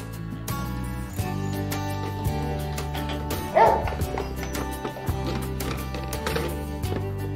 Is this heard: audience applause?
no